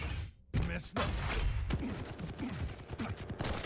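Heavy machine gun fire rattles in bursts during a Dragonborn esport duel between two players, dense rapid mechanical firing with thumps and dropouts, loud and close, mixed with other game effects.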